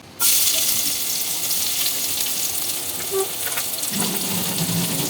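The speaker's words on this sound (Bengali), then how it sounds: "এখন আমি পেঁয়াজ কুচিগুলো ফ্রাই প্যানে দিয়ে দিলাম" Chopped onions hit hot soybean oil in a frying pan and burst into a loud, steady sizzle that starts abruptly and crackles on without pause.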